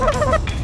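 Loud honking of a large flock of Canada geese landing, several overlapping calls close by in a short noisy burst.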